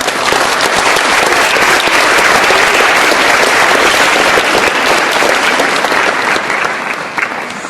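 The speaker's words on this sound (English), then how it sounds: "you all delegates, I think, deserve a big hand of applause from the teachers, the parents, and the leaders" Conference audience of delegates, teachers and parents giving sustained, loud applause in a hall, dense clapping holding steady before easing slightly at the end.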